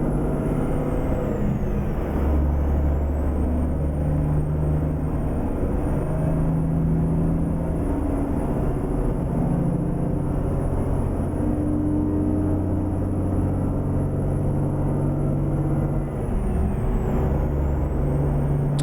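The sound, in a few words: truck driving in American Truck Simulator video game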